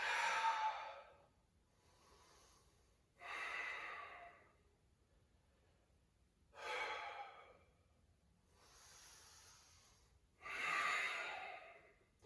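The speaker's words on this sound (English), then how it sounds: "3 deep breaths." Slow deep breaths during a yoga session: three long, airy exhales or sighs, each followed by a quieter inhale, spaced a few seconds apart with near silence between them.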